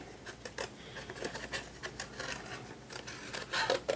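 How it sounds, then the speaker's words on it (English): Close, soft snipping and papery scratching of scissors cutting paper, in a series of short irregular cuts that get a bit louder toward the end. "just cut out the leaf-like shape"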